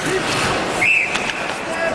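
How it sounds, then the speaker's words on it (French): A referee blows a single short whistle during a semi-pro ice hockey game between Thetford Mines and Québec. It sits under steady arena crowd noise and a commentator's talk. "coup de sifflet de l'arbitre"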